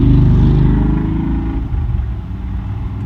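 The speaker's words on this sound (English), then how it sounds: "Can you believe we've got a traffic jam here in Carrizozo?" Cars moving slowly through a small-town traffic jam in Carrizozo on Highway 380, a low engine rumble that is loud at first and then settles into a steady hum, heard from close by with no talking.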